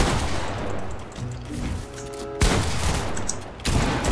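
Gunfire in the video game Fortnite comes as loud, close, sharp reports with a booming tail, each shot sounding over steady game background noise.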